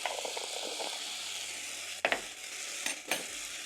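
Rice toasting in a pan with turmeric, salt and whole spices, a steady soft sizzle with a few sharper stirring scrapes near the middle and end, close and fairly quiet.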